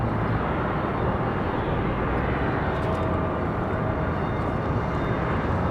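Frontier Airlines jet departing from Raleigh-Durham airport, a steady broadband engine roar at a distance that holds evenly throughout.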